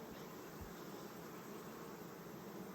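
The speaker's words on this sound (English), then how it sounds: "so lots of bees that are hatching out" A soft, continuous buzzing of many bees hatching out in a hive, steady and even, with no talking.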